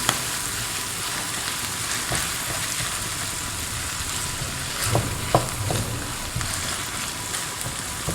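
Minced beef frying with salt in a pan, a steady dense sizzle running throughout with a few brief clinks and stirring scrapes, close and moderately loud.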